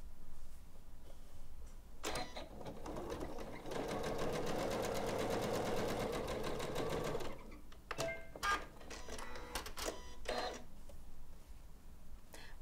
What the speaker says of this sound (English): We're going to be sewing them on their long edges, alternating floral with white